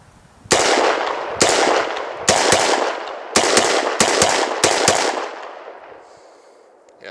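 A C93 pistol fires a string of sharp, loud shots, about eight in irregular pairs and singles, each cracking close by with a short ringing decay before quiet returns.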